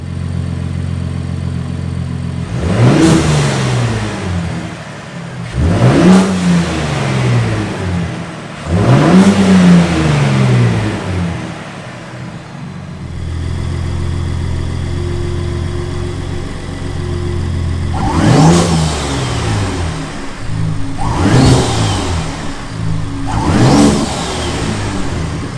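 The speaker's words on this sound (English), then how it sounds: "listen to some noises from the intake" Ford Raptor engine fitted with a CV Fabrication air intake, revving up in a series of loud, close bursts with idling between them, about six surges in all.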